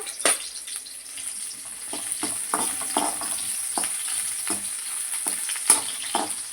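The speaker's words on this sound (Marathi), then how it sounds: "मी कांदा टाकलेला आहे कांदा लाल होऊन द्यायचा आहे आपल्याला" Sizzling of onions frying in oil in a pan, with repeated scraping and stirring strokes, fairly close and steady, no talking.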